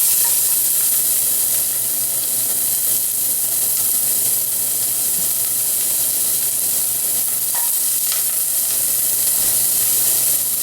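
Onions and garlic frying in two tablespoons of olive oil in a hot saucepan, a loud, steady, dense sizzle that holds evenly throughout with no talk.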